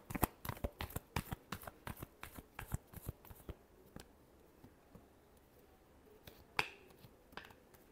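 Tarot cards being shuffled, a run of crisp riffling snaps and flicks at a quick irregular rhythm that thins out midway, then a few isolated sharper card slaps near the end, close and fairly quiet.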